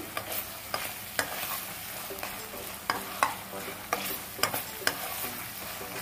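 Ginger garlic paste fries in a pan with a soft continuous sizzle, broken by a spatula scraping and stirring roughly every second in short, close, distinct strokes.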